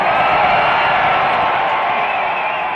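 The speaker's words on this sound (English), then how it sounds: "There's an awesome crowd out there, man. That crowd is awesome. They're so fired up." A fired-up live studio audience cheers and whoops for a guest being introduced on a radio show, a steady, loud roar of many voices filling the room without a break.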